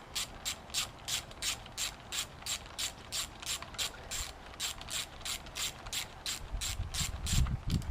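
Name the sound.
ratchet tightening down clutch housing on OBR 30.5cc engine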